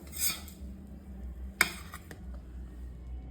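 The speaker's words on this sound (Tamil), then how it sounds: "இந்த பிளேட்டில் அப்படியே எடுத்து வச்சுக்கலாம்." An idli omelette set down onto a plate in a home kitchen, giving a sharp single clink of dish contact among soft scraping and handling noises, fairly quiet overall.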